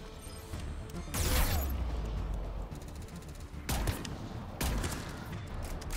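Sniper rifle fire in the game Mass Effect 3, during a Cerberus attack on the Citadel: three loud, sharp shots spaced a second or two apart over busy game ambience, with no one talking.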